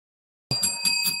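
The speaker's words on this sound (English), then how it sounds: "Oh, I'm ringing the bell." A bell in a radio studio struck after a moment of silence, giving several quick bright metallic rings that sustain and overlap, near and clear with no voices.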